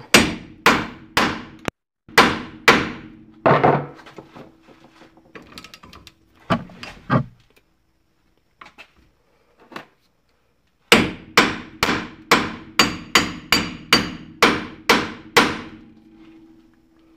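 Hammer blows on a Jeep Cherokee ball joint ring out in loud, sharp metallic strikes, a quick series of about ten, then scattered softer knocks and quiet, then another rapid run of a dozen evenly spaced hits.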